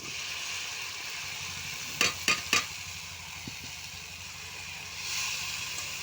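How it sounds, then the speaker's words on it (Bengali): Boiled cauliflower is added to a pan of spice masala, with a faint steady sizzle and a few quick clattering knocks of the utensil against the pan midway. "এবার আমি সেদ্ধ করে রাখা কপিগুলো দিয়ে দিচ্ছি।"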